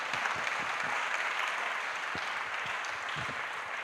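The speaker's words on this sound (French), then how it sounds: "je souhaiterais qu'on acclame pour le Seigneur" A church congregation applauds in a steady, dense wash of clapping that continues throughout at moderate loudness.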